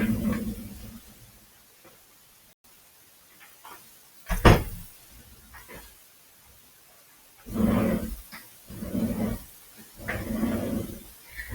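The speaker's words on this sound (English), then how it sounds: "I'm going to shut the door." A door is shut once, a single sharp thud at mid-clip over a quiet room, followed later by softer muffled thumps and rustles.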